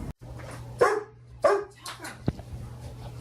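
A dog gives a few sharp barks, two louder ones close together and then a shorter yip, near and clear over a low steady hum indoors.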